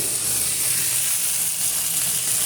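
Rohu fish goes into a hot pan of oil, making a loud, dense, continuous sizzle and hiss that holds steady for a couple of seconds at close range.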